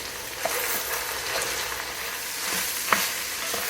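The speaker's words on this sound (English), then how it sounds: "I'm just going to leave what I have here so I can saute my veggies in it" Vegetables sauté in leftover pork and chicken drippings in a soup pot, giving a steady, moderately loud sizzle with a few soft stirring taps and no talking.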